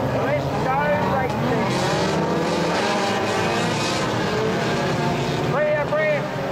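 Race cars in a 0–1600cc class roar off at the start of the first race of the day, engine notes rising and sweeping past under a talking voice.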